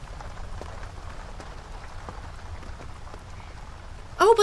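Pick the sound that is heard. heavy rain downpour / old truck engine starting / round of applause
heavy rain downpour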